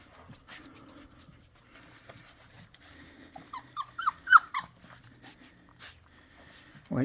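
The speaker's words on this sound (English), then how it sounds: "Silly little puppies, you can't get underneath there." Young puppies outdoors squeak, whimper and snuffle in short irregular bursts, with a cluster of high yelps in the middle and quiet movement between.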